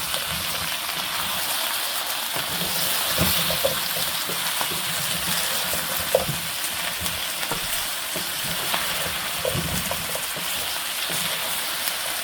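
Potato frying in a pan of curry, dense rain-like sizzling that stays steady and loud throughout, with occasional stirring knocks, close and without speech.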